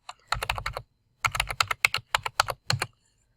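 Someone types on a computer keyboard in two quick bursts of close, crisp keystrokes separated by a short pause, with no voices.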